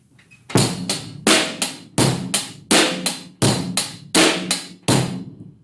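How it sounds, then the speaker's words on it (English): A steady rock drum groove: kick and snare alternating under even hi-hat eighth notes, repeating cleanly for several bars with no talking. "I'm going to show you a 4/4 drum beat using eighth notes on the hi-hat"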